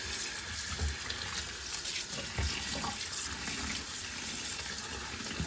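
Water is squeezed and runs out of soaked alder cones, a steady close trickling and splashing like a running tap, with no talk.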